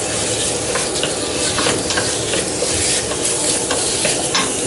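Beef browning in a hot pan for a wintery stew, stirred continuously with a loud steady sizzle and scraping of the spoon, no voices over it.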